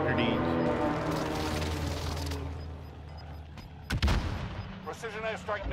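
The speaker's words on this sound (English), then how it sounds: "Precision airstrike missed." A precision airstrike in Call of Duty Warzone, a video game, rumbles with dense booming blasts over a sustained low roar. A sharp loud crack comes near the end, followed by brief electronic game tones.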